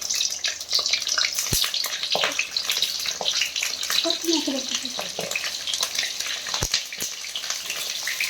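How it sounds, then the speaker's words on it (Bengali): Potato-stuffed capsicums sizzle loudly in hot oil, a steady crackling fry with occasional sharper pops and stirring clatter throughout, no voices. "এখন একটা একটা করে ছেড়ে দিচ্ছি এই তেলের উপরে"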